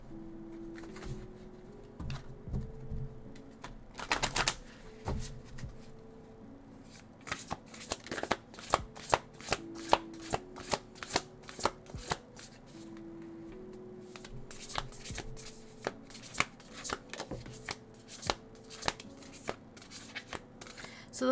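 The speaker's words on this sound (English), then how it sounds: "It's been a long time since I've shuffled this deck," A tarot card deck is shuffled near the mic in repeated bursts of riffling and tapping, quiet overall with soft speech in between.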